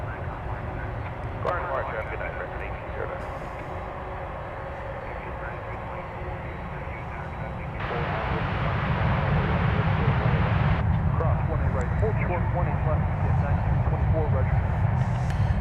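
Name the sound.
UPS Boeing 757 cargo plane at DFW Airport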